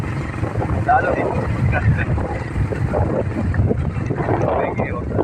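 A motorcycle engine drones low and steady on a slippery downhill road, half buried under heavy wind buffeting, with people talking over it.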